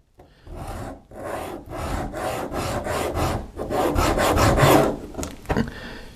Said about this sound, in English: I want to scratch off all of the gold coating or plating that's on this cap